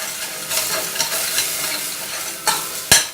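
A spoon stirs turmeric powder into a simmering pot of pepper jeera rasam, giving close, steady scraping and bubbling sizzle with a few sharper knocks of the utensil near the end, no voices.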